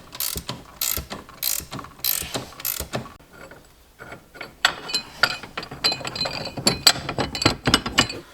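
A spring compressor is wound off a Ferrari suspension spring, giving quick metallic ratcheting clicks in bursts, then clinks and scraping of metal parts at close range.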